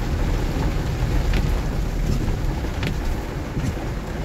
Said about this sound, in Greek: Ρίχνει αρκετό νεράκι